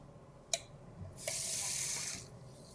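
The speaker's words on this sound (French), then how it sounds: "Je vais rajouter un tout petit peu d'eau." Tap water runs and splashes steadily for about a second into a pan of beef fajita sauce, preceded by a couple of sharp clinks, close and clear with no talking.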